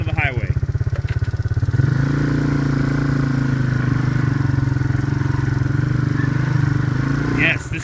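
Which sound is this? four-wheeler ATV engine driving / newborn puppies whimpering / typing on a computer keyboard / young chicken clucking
four-wheeler ATV engine driving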